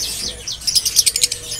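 Lovebirds of mixed colours at a kiosk in Pramuka bird market, Jakarta, give a burst of rapid, high chirps and tweets, thin at first and then a dense run of loud, close calls.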